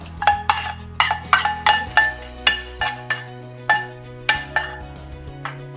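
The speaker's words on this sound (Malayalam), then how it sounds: "നന്നായിട്ട് ഇളക്കി കൊടുക്കാം." A metal spoon stirs a pot of pulissery just after the mustard tempering goes in, giving about a dozen close, crisp clinks and scrapes against the pot in an uneven rhythm, with no talking.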